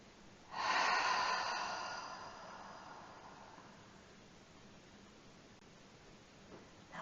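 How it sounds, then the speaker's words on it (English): A long, deep breath taken during a guided relaxation exercise, a single loud airy inhale-exhale swelling near the start and slowly fading over several seconds, close and alone with no talking. "One more long, deep breath."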